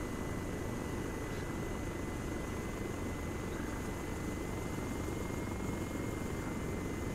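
Helicopter in the military video game Arma 3, a steady, loud rotor and engine drone that fills the whole stretch without a break, with no talk over it.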